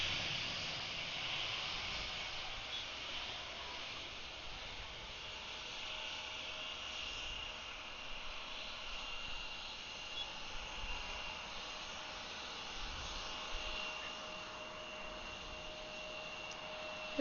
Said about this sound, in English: The 757 is already rolling too, so pretty quick there.